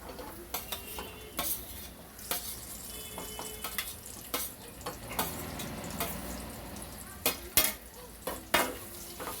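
Pre-fried tindora (ivy gourd) goes into a hot pan and is stirred, a soft sizzle under repeated sharp scrapes and clinks of a spatula against the metal pan, irregular and close.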